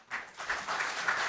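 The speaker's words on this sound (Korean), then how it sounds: "큰 박수로 모시겠습니다" Applause begins at a policy seminar on plasma power generation as a guest speaker is introduced, a short burst of audience clapping swelling up quickly and staying fairly soft.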